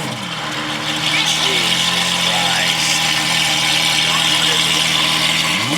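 A Lamborghini Aventador SVJ engine idles loudly and steadily up close, a deep, constant throbbing drone with a slight rise in pitch near the end.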